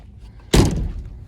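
The heavy door of a junked 1973 Mercedes-Benz 280C (W114) shuts with one solid, deep thunk close by after a quiet moment, then a short fading resonance.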